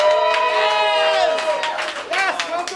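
Audience at a family-friendly improv comedy show applauding and cheering, a dense wash of claps and whoops with voices calling out, loud and close, tapering off slightly toward the end.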